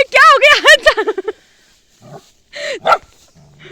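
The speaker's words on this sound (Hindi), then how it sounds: "ये कुत्ता खींचने लग गया जिंदा आदमी को।" A dog barks in a rapid burst of loud, close barks, followed after a pause by a few more scattered barks and yelps outdoors in a hillside village.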